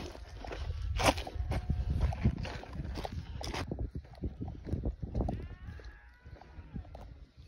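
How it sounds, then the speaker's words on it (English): Many sheep hooves shuffling and trotting past over ground as gauchos herd the flock, with a few faint bleats; busy and close, then thinning out. "These gauchos have these sheep under control so good."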